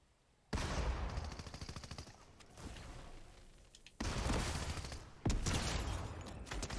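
Loud automatic gunfire in Fortnite Battle Royale comes in three distinct rapid bursts with short gaps between them, close and sharp, no talking.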